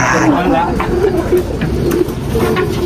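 Pigeons cooing close by outdoors, low soft coos repeating under a busy background with people talking nearby.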